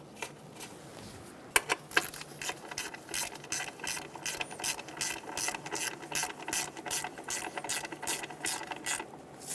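A ratchet snugs a bracket bolt on the intake manifold of a 2003-2007 Honda Accord 3.0L V6, giving fast, crisp clicking in repeated bursts of strokes, close and moderately loud, with no talk.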